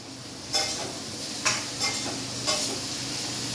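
Capsicum sizzles in a pan while being stirred, a constant frying hiss broken by four sharp scraping strokes of a utensil at roughly one-second intervals.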